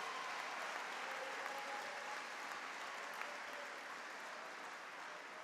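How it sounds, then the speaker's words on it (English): Steady, dense applause from a graduation ceremony audience at Ginn Academy's 2025 commencement, a continuous wash of clapping that holds at an even level throughout without any talk. "Clap it up for 2025"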